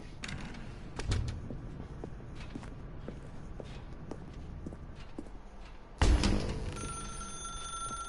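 Telephone ringing in the video game The Stanley Parable, a bright electronic ring with steady tones starting near the end, after scattered footsteps and faint room sounds, with no talking.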